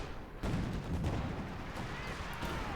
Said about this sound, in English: Gun firing away, smoke barrage being deployed.